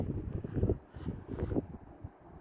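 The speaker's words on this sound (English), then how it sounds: "Sorry about the wind." Gusty outdoor wind buffets the microphone at sunset beside solar panels, a low rumbling roar swelling and easing in uneven waves, fairly faint and with no voices.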